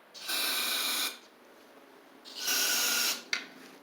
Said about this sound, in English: Spray a little bit down in here.